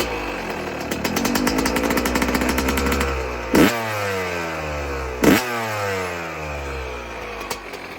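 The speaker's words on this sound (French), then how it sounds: "Regarde-moi ça, comment elle tourne rond la moto." A motorcycle engine idles smoothly and steadily up close, then gives two sharp revs with rising whines that fall back to a steady idle, followed by a brief blip near the end.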